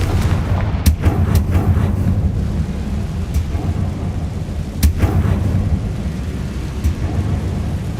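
Confringo blasting spell cast in the video game Hogwarts Legacy, heavy booming explosions over a dense rumbling battle backdrop, with several sharp blasts in sequence and no voice.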